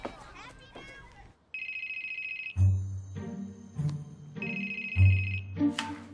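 A phone rings while someone calls a father, two bursts of high electronic ringback tone with thumping sounds and a voice before them, moderately loud and near.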